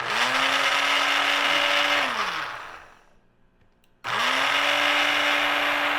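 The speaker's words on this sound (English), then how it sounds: "So I'm so excited to get my blender." A new blender in a home kitchen whirs loudly at a steady pitch, winds down into quiet, then starts up abruptly again at full speed, with no talk.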